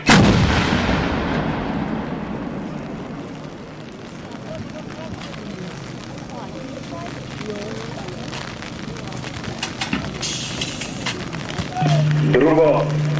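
Artillery salvo fire at a live-ammunition military exercise: a loud, close boom opens, then a long rolling echo trails off, with a voice speaking over it toward the end.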